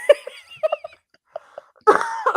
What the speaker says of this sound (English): now I'm gonna have a coughing fit.